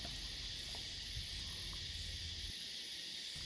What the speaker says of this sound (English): It's time to be deafened by the cicadas.